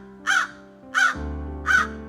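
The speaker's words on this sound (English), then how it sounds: "crow," A crow gives three loud, harsh caws spaced evenly apart over a low steady background hum, with no talking.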